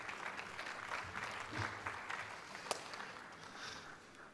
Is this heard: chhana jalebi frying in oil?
no